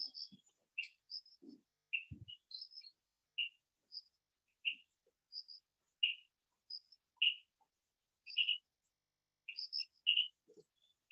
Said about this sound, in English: we have this beautiful background of chirping insects